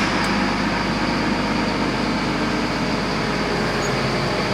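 The engine of a 1999 Safari Zanzibar RV runs at fast idle as a steady, loud, continuous low rumble with a broad mechanical roar that never changes.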